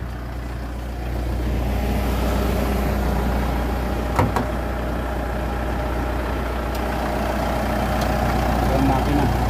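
A 2011 Mitsubishi Montero GLX's 2.5-litre 4D56 DID common-rail diesel engine idles close by with a steady low rumble and one brief clatter partway through.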